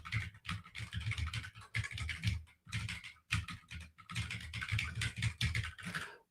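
Fast, dense typing on a computer keyboard, rapid clustered keystrokes in bursts with short pauses, close and clear with no talk.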